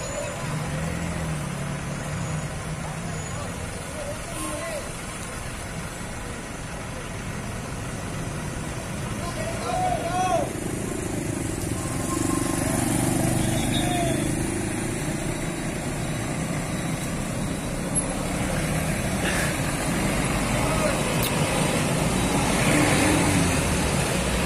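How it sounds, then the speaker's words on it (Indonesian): A Jaya Langit tour bus pulls away from a roadside in Galendo, Ciamis, its engine droning and swelling gradually as it departs, with voices talking over the vehicle noise. "Diberangkatkan bus Jaya Langit ini."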